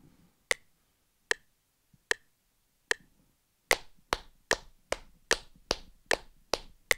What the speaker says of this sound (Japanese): 手拍子をパンパンパンパンと、8分音符8個分叩いてみたいと思います。